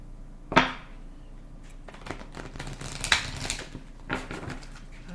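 Moonology oracle cards being shuffled by hand, a few separate riffling bursts and soft slaps with quiet pauses between them, close and fairly light, with no talking.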